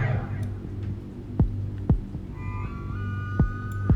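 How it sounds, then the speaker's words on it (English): Slow heartbeat sound effect, a few deep thumps spaced about half a second to a second apart, over a low steady hum and ambient drone. "you can hear your heartbeat"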